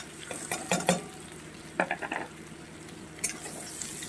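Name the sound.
fried potato stirred into frying shrimp and onion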